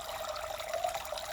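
Continuous splashing and trickling of water falling over a small pump-fed backyard pond waterfall, steady and close with no voices.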